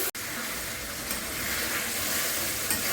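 Mutton sizzles and fries steadily in a pan with tomato and garlic, a close, even crackle and hiss of hot oil, stirred now and then, with no voices over it.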